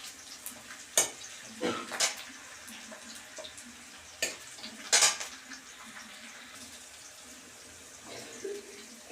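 Garlic and raw green chilli fry in a wok for a baby potato dish, with sharp metal scrapes and clinks of stirring breaking through a faint, steady sizzle at irregular intervals.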